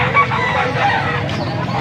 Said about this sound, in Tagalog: Tandang pa guys, tandang.